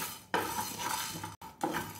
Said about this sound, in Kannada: ಇದನ್ನ ಡ್ರೈ ರೋಸ್ಟ್ ಮಾಡ್ಕೊಳ್ಳಬೇಕು, ಅಂದ್ರೆ ಚೆನ್ನಾಗಿ ಫ್ರೈ ಮಾಡ್ಕೊಳ್ಳಿ